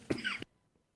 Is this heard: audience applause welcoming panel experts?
no